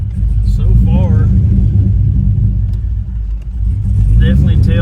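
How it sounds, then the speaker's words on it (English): Chevrolet S10 truck fitted with an LSXRT engine accelerating, a steady loud low engine rumble heard from inside the cab throughout, with a few brief higher tones riding over it and no clear talk. "definitely tell that the truck has got way more acceleration"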